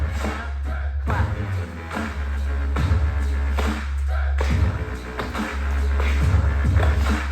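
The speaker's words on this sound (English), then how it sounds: "it's going to be a slap to the mat and a clap" In a Buti yoga workout, hands slap the yoga mat and then clap, repeating in a steady beat about every couple of seconds over loud, bass-heavy music.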